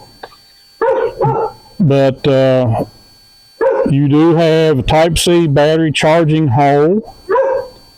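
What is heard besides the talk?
dog barking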